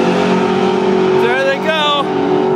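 A loud launch of drag race cars, a Mustang against a Chevelle Nomad, roars close by, with engines revving and rising in pitch as they pull away, while people talk over it.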